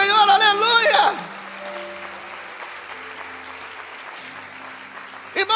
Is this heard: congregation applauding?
yes